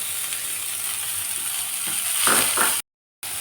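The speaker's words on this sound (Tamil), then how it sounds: "இந்த முட்டைக்கோஸ் வதங்கிடுச்சு" Cabbage and vegetables sauté in a pan with a steady close sizzle and a few scraping stirs near the end, then the sound cuts out abruptly for a moment before the sizzle resumes.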